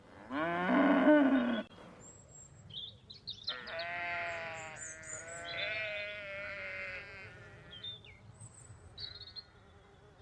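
On a farm keeping cows, sheep, goats and chickens, one loud, deep, drawn-out moo rings out close by, followed by a string of softer, wavering livestock calls with no voices.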